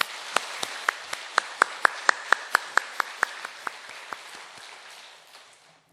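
A church congregation applauds the choir during a Sunday service, a short burst of distinct, evenly spaced claps that comes through fairly faintly, then slows, thins and fades away into quiet.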